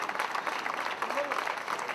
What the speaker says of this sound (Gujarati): ઊભા થઈને એમને તાળીઓના ગડગડાટથી આજે આપણે જ્ઞાતિભૂષણ પુરસ્કાર તરીકે